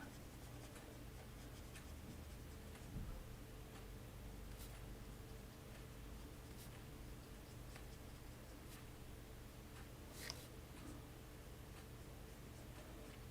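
Marker pens, some with fine nibs, scratch and tick faintly across paper in short, irregular strokes against a quiet background, with no one speaking.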